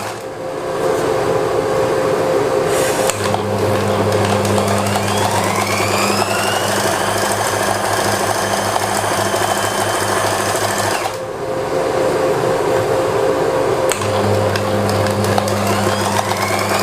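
Stitching a sleeve closed, a sewing machine runs loud and close in a steady, rapid whir for long stretches, with a brief pause and a faint clink partway through and no talk.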